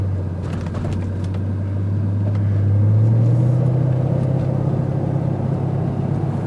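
A car driving and zigzagging down a road: a steady, close, low engine rumble that swells slightly midway and holds throughout, with faint higher chirps above it and no talk.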